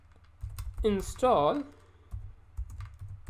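Fingers typing a pip command on a computer keyboard into a terminal, scattered light clicks of keys, close by, partly under a man's speech.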